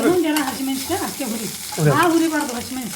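Ridge gourd and green chillies fry in a pan while being stirred, a steady sizzle with scraping strokes running under continuous nearby talk.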